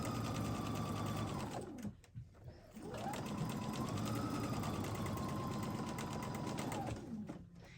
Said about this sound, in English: And after I get done sewing this block